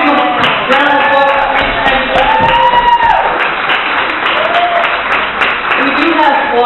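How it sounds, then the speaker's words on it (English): Audience applause at an art institute gathering, a dense continuous patter of many hands clapping together, loud and close, with voices talking and calling out over it. "we're going to give him a round of applause"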